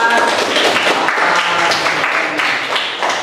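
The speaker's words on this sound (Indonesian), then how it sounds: "Tepuk tangan Pak." Students in a classroom applaud after a lesson presentation on zakat, a steady burst of many close hand claps lasting a few seconds, with faint voices underneath.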